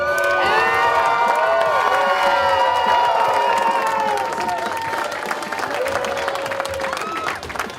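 A comic con audience in a crowded hall applauds and cheers loudly, with shouts and whoops over sustained clapping that eases slightly toward the end.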